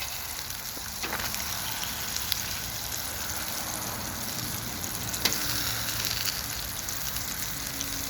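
Meatballs fry on a flat griddle with a steady, even sizzle throughout, with a few faint clicks and scrapes as they are turned.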